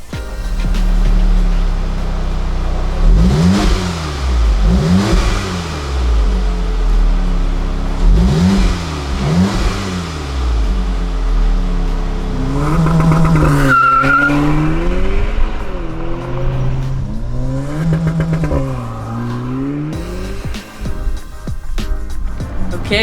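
An Audi S3 with a Milltek catback exhaust revs repeatedly up close, each blip rising and falling with a deep, raspy exhaust tone, followed by longer revs and some rattling.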